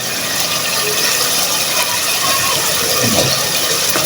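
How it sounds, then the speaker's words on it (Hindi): Water pours into a pressure cooker holding white meat, a dense, continuous splashing wash with no pause throughout, heard close and fairly loud. "इसमें पानी डाल के"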